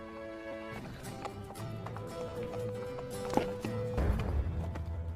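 A racehorse gallops in a film scene, quick rhythmic hoofbeats under a layered music-and-effects soundtrack, fairly quiet, with a sharp thump and a rising rumble near the end.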